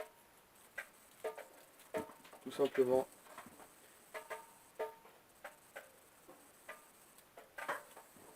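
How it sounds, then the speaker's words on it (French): Honey drips through a large strainer into a bin during a home honey harvest, making faint, irregular tick-like taps that repeat throughout. A person speaks briefly partway through. "Toutes les gouttes d'eau, c'est le miel qui tombe dedans."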